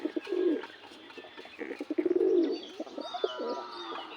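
A White Hungarian Budapest male pigeon cooing up close, with several throaty, rolling coos and a few softer chirps in between, heard alone without talk.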